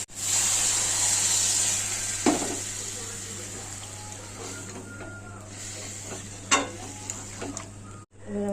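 Water goes into hot chana masala in a pan, with a strong steady hiss that fades midway, broken by a few spoon clinks and scrapes.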